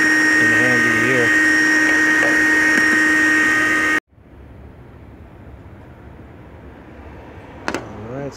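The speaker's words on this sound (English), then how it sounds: "I also have a handy mini vacuum for the car, so this is also coming in handy here." A handheld mini car vacuum cleaner runs loud and steady with a whining tonal hum for about four seconds, then cuts off abruptly, leaving quieter background noise and a brief clunk near the end.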